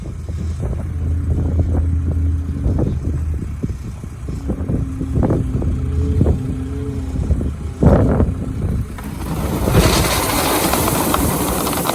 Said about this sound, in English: We'll see how good of a front end loader he is.